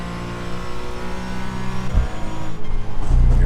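A race car engine drones steadily in the iRacing simulator during a cold-tire outlap of the ROAR special event, then dips sharply as the driver lifts at the kink before the engine note swells back up, loud and continuous.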